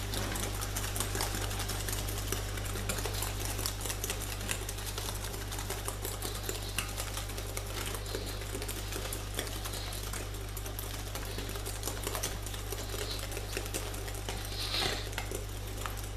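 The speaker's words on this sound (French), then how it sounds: "vous allez battre pour justement blanchir les œufs avec le sucre" Three eggs being beaten with brown sugar for brownie batter, heard as a steady, close, continuous mechanical whirring with a low hum, unbroken for the whole stretch and with no talking.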